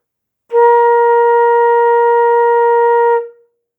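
A single sustained woodwind note held steadily for about three seconds, clear and alone, then released.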